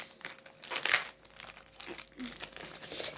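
Gift package being opened, with crinkling, crumpling and tearing of wrapping in quick irregular bursts, close and fairly quiet.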